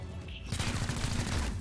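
A gunshot in the XCOM: Chimera Squad video game, a loud burst of rapid firing that swells after a brief quieter lead-in and rattles on steadily to the end.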